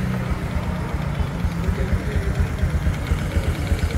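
A 2006 Honda Future Neo GT motorcycle engine idles close by in a low, even, rhythmic putter that stays steady throughout, with no talking.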